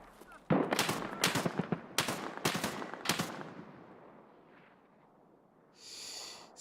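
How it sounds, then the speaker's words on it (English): Gunfire in the shooter game Escape from Tarkov: five sharp, loud shots fired in a quick uneven burst, each with a ringing tail that decays into quiet afterward. "Yeah, they're shooting at me."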